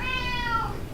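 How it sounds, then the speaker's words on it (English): A single loud cat meow, drawn-out and wavering, fading at the end; close to the listener with no talking. "that's my cat screaming, needing attention."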